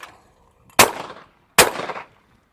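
Two sharp, loud shots ring out from a UGC Venus side-by-side shotgun firing 28 gauge 3/4 ounce target loads at clays, close by and spaced under a second apart, each with a brief decaying tail.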